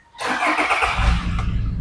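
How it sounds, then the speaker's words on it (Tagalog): A family van with a 4-speed transmission cranks and fires on the first try, then settles into a smooth, quiet, steady idle rumble close by, with no talking. "Start po natin yung engine ito."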